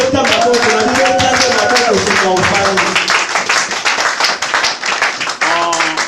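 A church congregation claps to acclaim the word of God, a crowd of hands beating rapidly and loudly while singing and voices carry over the top throughout.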